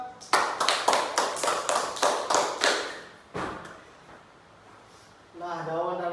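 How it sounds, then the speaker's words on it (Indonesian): A classroom audience gives a short burst of hand clapping, about ten rhythmic claps close by, followed by a single thud, a quiet pause and then a brief voice. "tepuk tangan dulu Yoga"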